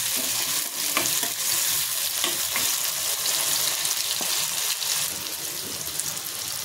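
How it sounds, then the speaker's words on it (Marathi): Onion and tomato being sautéed in a pan for mushroom masala: a continuous close hiss of frying with scattered stirring scrapes, fairly loud throughout and easing slightly toward the end, no voices. "टोमॅटो टाकते, ते पण परतून घेते मी"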